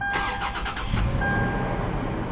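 A 2016 Toyota 4Runner TRD Pro with a 4-liter V6 is started with the key: a brief cranking burst catches quickly and settles into a steady, close idle.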